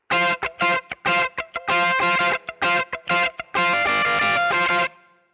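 Electric guitar with a clean tone through a Fractal Plexi 100-watt amp model with bright switch engaged, playing a rhythmic, choppy strummed pattern of short chords followed by a sustained ringing chord, loud and alone.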